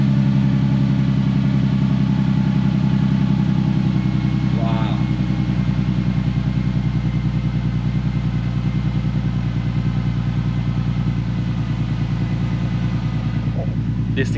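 A car engine idles and revs loudly through a STILLEN aftermarket exhaust, a steady, close rumble with a raspy edge that holds throughout, with a person's voice briefly over it.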